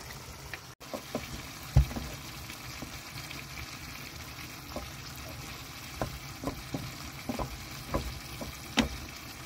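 Rougail stew simmering in a pot, a soft bubbling sizzle with scattered pops and gentle stirring clinks, close and quiet with no talking.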